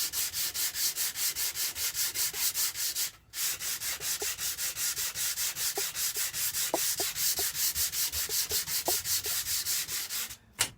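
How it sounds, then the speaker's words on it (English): Steady back-and-forth rasping of sandpaper on a long straight board flattening a wooden guitar fretboard built from construction scraps, rhythmic close strokes with one brief pause and no talk. "where that graphite comes off, that's the high spot that needs to be sanded smooth"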